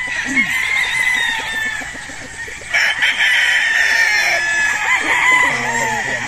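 Battle stag roosters on a farm crow loudly and close by, with shorter clucks and calls mixed in throughout.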